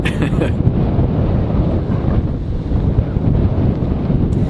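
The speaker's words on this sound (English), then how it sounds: "It's windy. Almost blew my tripod with my camera on top over." Strong outdoor wind buffeting the microphone, a loud continuous roaring rumble with gusting swells across the whole stretch and no voices.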